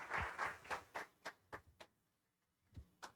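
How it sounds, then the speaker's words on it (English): Scattered hand claps from a small audience at a maritime cooperation event, a quick run of claps that thins out and stops, then a couple of final claps, fairly faint. "Let's all give him a warm round of applause."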